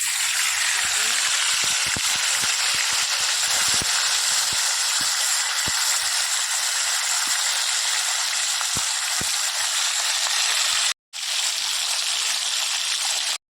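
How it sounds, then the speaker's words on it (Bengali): Sugar, dried red chillies, whole cumin and garam masala sizzle loudly in hot oil for a Bengali doi katla, a steady close frying hiss with faint stirring taps that breaks off briefly near the end. "তেলের মধ্যে দিয়ে দিলাম চিনি, তার মধ্যে দিয়ে শুকনো লঙ্কা, গোটা জিরে, গরম মশলা"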